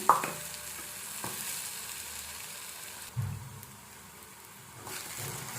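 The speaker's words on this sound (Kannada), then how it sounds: "ಫಸ್ಟಿಗೆ ಆಲೂಗಡ್ಡೆನ ಇಲ್ಲಿ ಸ್ವಲ್ಪ ಫ್ರೈ ಮಾಡ್ಕೊಳ್ತಾ ಇದ್ದೀನಿ, ರೋಸ್ಟ್ ಮಾಡ್ಕೊಳ್ತಾ ಇದ್ದೀನಿ" Potato pieces roasting in a pan, a quiet steady sizzle with a few brief stirring knocks, close and without talk.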